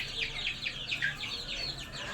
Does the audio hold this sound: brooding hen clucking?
yes